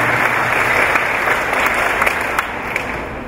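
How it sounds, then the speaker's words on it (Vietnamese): Applause from a congregation gathered at a religious profession ceremony of the Lovers of the Holy Cross sisters, broad and sustained, staying loud and then easing slightly toward the end. "Chúng ta vỗ tay chúc mừng nguyên bà cố của gia đình."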